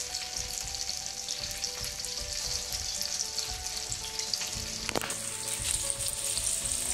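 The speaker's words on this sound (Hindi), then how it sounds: "ये देखिए मैंने सारे बड़े डाल दिए हैं उड़द के" Urad dal vadas fry in hot oil with a dense, steady sizzle and crackle that stays close and even throughout, broken once by a sharp click.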